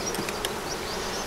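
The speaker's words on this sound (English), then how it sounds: "might as well show you some bees and see what they're looking like" Honey bees at a hive during a spring inspection make a dense, steady buzzing hum, close and continuous throughout the short moment.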